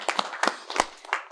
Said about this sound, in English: That deserves a clap, by the way